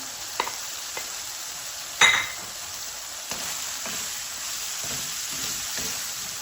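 Capsicum, red chili and onion being stirred and fried in a pan for a pizza topping, a steady soft sizzle with a few spatula clinks and scrapes, one sharper clatter near the middle, close up with no talking.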